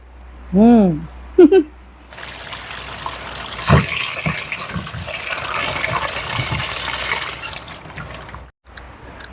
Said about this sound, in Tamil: வாங்க இப்போ இது எல்லாத்தையும் கழுவி கொண்டு வருவோம்.